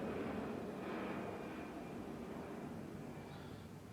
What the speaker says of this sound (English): this plane is making a lot of noise